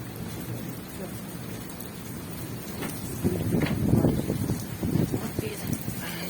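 Heavy rain pours steadily during a thunderstorm on a street, with low rumbling thunder swelling in the second half, while people talk nearby.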